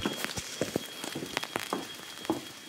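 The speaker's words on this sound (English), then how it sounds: "It's so cold. And it's raining." On a cold day in Rwanda's Nyungwe forest, rain falls in a faint, scattered patter of soft drops and taps, quiet and with no one speaking.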